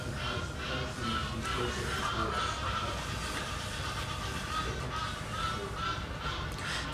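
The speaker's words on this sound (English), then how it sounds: "Some very noisy birds there, Jerry." Very noisy birds call at an outdoor lawn bowls tournament, a World Bowls Tour qualifying event, with harsh, continuous honking cries layered over steady ambient noise and no talk.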